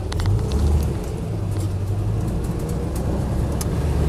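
A Land Rover Lightweight with a V8 conversion and automatic gearbox pulls away, its steady engine rumble loud and close throughout with no speech.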